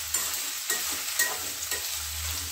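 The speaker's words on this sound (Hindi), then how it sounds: "प्याज को ब्राउन होने तक फ्राई करेंगे।" Onions frying in a pan for an egg curry, a continuous close sizzle with light stirring scrapes every half second or so, no voices.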